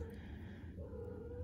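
A cat gives a faint, drawn-out meow that shifts slightly in pitch, heard quietly against low background noise.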